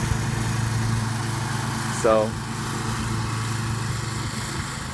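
Scag Tiger Cat II lawn mower running at a steady drone in the background, fairly near, as someone speaks briefly over its engine hum.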